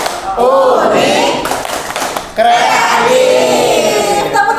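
A class performs a rhythmic clapping chant together in a classroom teaching workshop, with bursts of hand claps mixed with children's voices calling out in unison, loud and close throughout.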